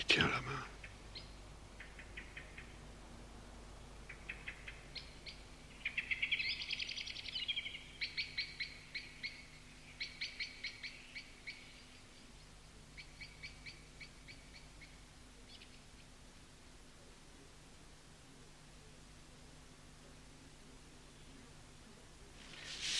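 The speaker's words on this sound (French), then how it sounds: "Il dit qu'il entend le merle chanter." Faint, high chirps and trills of a blackbird singing come in scattered bursts over a quiet background hum, distant and sparse.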